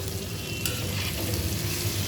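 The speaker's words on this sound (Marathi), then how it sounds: "आपण आता कांदा आणि हिरवी मिरची चांगली अशी परतून घेऊया" Onion and green chilies sizzling and frying in an iron pan, a dense steady crackle with faint stirring scrapes, close and alone without any voices.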